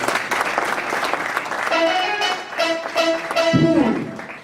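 Congregation applauding at an Elohim Church spiritual revival service, a steady wash of clapping throughout with voices and singing rising over it in the second half.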